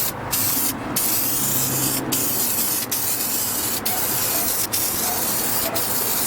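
Carpet dye sprayed from an aerosol can onto car upholstery in a long, steady, loud hiss lasting the whole stretch, broken only by a few very brief gaps where the nozzle is released.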